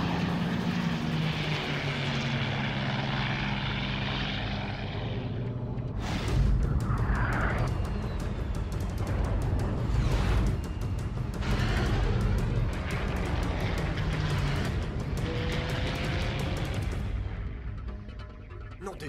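A jet airplane dives fast over mountains at about 320 knots, dropping more than 10,000 feet per minute, with a loud, steady roar that surges and is punctuated by sharp bangs.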